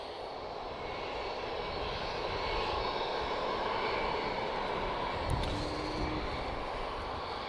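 An Airbus A320 arriving at Lisbon from Bristol gives a steady, broad engine roar that builds gently and holds, loud and continuous throughout with no voices.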